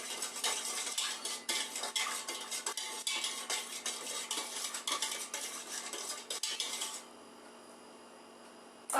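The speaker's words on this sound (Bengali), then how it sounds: "এখন আমি আবার এটাকে গুটে নিচ্ছি, যাতে চিনিটা আর লবণটা মিশে যায়।" A spoon stirs sugar and salt into lassi in a bowl, with a steady run of close scraping and clinking strokes that stops abruptly near the end, leaving quiet room noise.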